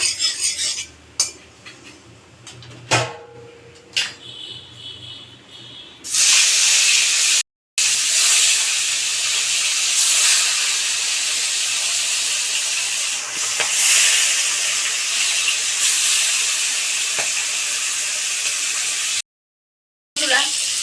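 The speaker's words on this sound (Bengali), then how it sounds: "এটা আমি এবার ভেজে নেব কড়াই গরম হয়ে গেছে তেলও দিয়েছি তেল গরম হয়ে গেছে" Fish frying in hot oil in a heated wok (kadai), starting with a few utensil clatters before a loud, steady sizzle takes over and runs nearly continuously, broken by two short gaps.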